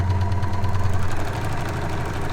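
An overlocker serger stitches along a fabric edge with a fast, even mechanical chatter and hum, close and steady, the rhythmic pulsing easing slightly toward the end.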